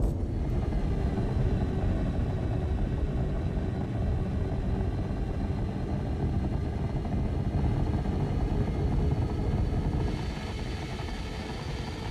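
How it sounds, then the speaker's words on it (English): A spaceship engine in Star Citizen with a steady jet-like whine and roar, continuous and loud for the whole stretch with little low rumble, easing slightly near the end; no talking. "This one sounds a lot more like a jet engine."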